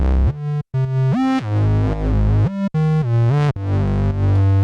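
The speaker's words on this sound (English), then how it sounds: "just the Bad Tape, the one bass sound" Solo synth bass line run through the Bad Tape tape-saturation plugin, loud and warm with a gritty, distorted edge, playing a rhythmic sequence of gliding, sliding notes with short gaps between phrases.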